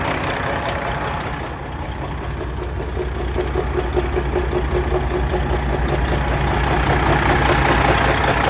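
A car engine runs at a steady idle just after an alternator replacement, a close, even rumble holding constant throughout without any voices.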